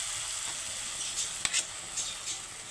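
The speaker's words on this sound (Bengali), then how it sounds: "এখন আমি এঁচোড়টা দিয়ে দিচ্ছি সেদ্ধ করে রাখা।" Boiled jackfruit goes into a hot pan of spiced masala and sizzles in a steady, faint hiss, with a sharp clink of a utensil and a few soft stirring scrapes.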